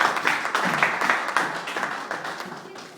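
A church congregation at a French-language service claps together, a dense steady patter of applause under voices and murmurs that gradually eases off.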